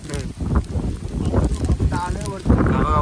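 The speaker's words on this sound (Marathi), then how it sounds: "बघा वारा बघा किती येते." Strong gusting wind buffets the microphone on the summit of Kalsubai mountain, a loud low rumble that swells and drops, with people talking over it.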